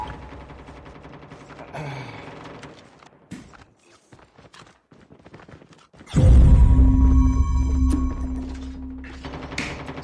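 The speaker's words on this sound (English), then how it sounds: "You shoot the man with the shotgun" Shotgun fire in Call of Duty Mobile: a few isolated sharp blasts early on, then a sudden loud, booming barrage that rings on over heavy rumbling.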